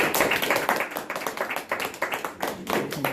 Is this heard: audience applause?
yes